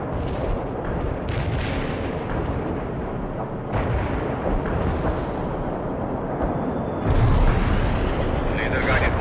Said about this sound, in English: Laser-guided bomb was dropped as requested.